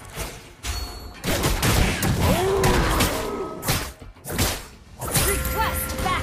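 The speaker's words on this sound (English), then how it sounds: "Your team destroyed a turret." A turret falls in a League of Legends match: crashing, shattering game effects and whooshes in bursts, with an in-game announcer voice over the action.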